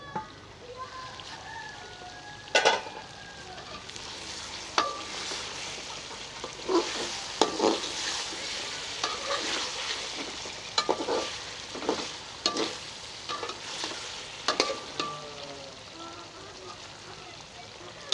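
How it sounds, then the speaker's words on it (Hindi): A spatula stirs fish karahi frying in a pan, with soft continuous sizzling broken by sharp scraping strokes every second or two, heard fairly close and moderately quiet. "मुझे भूनते हुए 6-7 मिनट हो गए हैं।"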